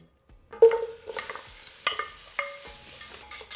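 Sticks of unsalted butter drop into a hot pot with browned sausages for a Cajun seafood boil, giving a few sharp sizzling bursts and soft stirring clatter between quiet gaps.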